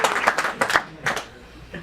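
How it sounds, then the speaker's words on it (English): An audience gives a short round of applause made of a few loud, scattered claps in quick bursts that fade out toward the end. "they really deserve a round of applause for that hard work"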